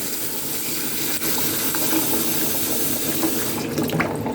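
Tap water running steadily into a sink or bowl to soak vegetables for a Chinese soup, a constant close splashing hiss with no talk.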